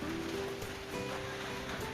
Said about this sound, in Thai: ก็จะได้ยินเสียงฝนเปาะแปะ เปาะแปะนะคะ